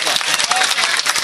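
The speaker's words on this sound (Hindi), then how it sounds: "तालियों के साथ रुखसत कीजिए अनवर अमान को" A mushaira audience applauds a departing poet, a steady wash of many hands clapping close and loud throughout the short moment, with no speech on top.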